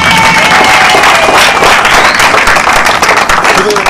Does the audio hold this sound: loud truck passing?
no